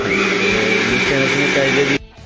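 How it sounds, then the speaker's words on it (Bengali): A kitchen blender grinds onion into paste while spices are readied for a chicken barbecue, a loud steady whir holding for about two seconds before cutting off abruptly. "এখন পেঁয়াজ বাটা হচ্ছে"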